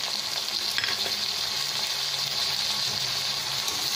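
Mashed tomato tipped into spiced vegetables frying for a pointed gourd (potol) bhaji, giving a steady, close, continuous sizzle that runs evenly throughout with no talk.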